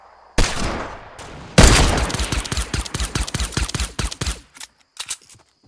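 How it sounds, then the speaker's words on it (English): A minigun fires in the video game Fortnite: one loud opening shot, then after a short pause a long, rapid, rattling burst of close gunfire that trails off into a few scattered shots. "Minigun."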